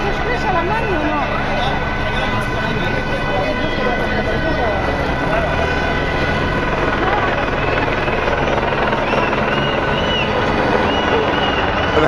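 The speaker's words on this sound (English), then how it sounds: "The helicopter hovers overhead." A police helicopter hovers overhead during a general strike in a Barcelona street, its steady rotor drone filling the scene without a break beneath crowd noise and nearby voices.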